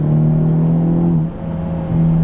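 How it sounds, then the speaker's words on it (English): A car engine with an active exhaust revs loudly up close, a strong sustained growl that dips briefly mid-way before climbing again. "this thing It sounds so good too with this active exhaust"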